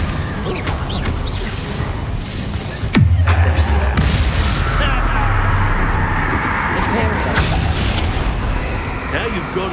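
Confringo fire spells blasting in the Hogwarts Legacy video game, loud whooshing impacts with a sharp, heavy hit near the three-second mark, set against steady combat noise.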